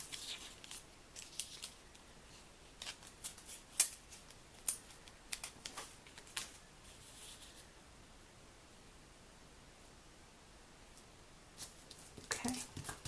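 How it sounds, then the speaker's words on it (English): Scissors snip a clear plastic gift tag ornament in a quiet room. Short, faint crisp cuts come in irregular bursts with pauses between them, and nobody speaks. "And then I can just take my scissors right along that again."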